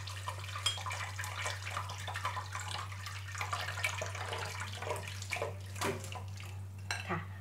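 Cold tap water running and splashing over boiled rice vermicelli noodles being rinsed in a sink, a continuous close gushing with occasional clatter of a pot or strainer beneath a low hum.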